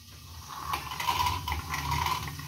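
An electric mixer grinder coarsely grinds green peas for a potato and pea curry, giving a steady, close whirring and rattling drone that rises slightly and holds throughout, with no talk.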